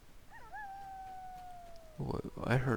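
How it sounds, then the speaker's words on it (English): Wolf howl in a video game, a single long rising-then-level howl at moderate distance lasting over a second, followed by someone speaking. "Whoa, I heard a wolf there."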